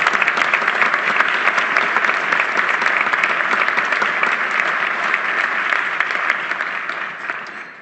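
An audience at a head table luncheon claps steadily for Kevin O'Leary, Conservative Party of Canada leadership candidate, as he stands; dense, even applause fills the room for nearly eight seconds before tapering slightly at the end.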